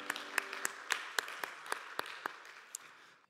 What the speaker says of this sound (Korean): 서로를 격려하면서 박수하겠습니다.